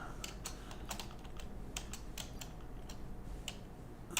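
Computer keys are tapped in a quick irregular series while selling vehicles in Farming Simulator 25, close, quiet clicks about every half second with no talk.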